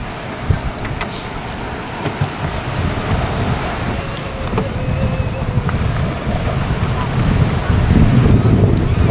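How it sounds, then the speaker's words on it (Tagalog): Strong wind gusts over the sea beside fishing boats, a loud, continuous rushing roar with buffeting on the microphone that builds toward the end, with no clear talk. "At may hangin na."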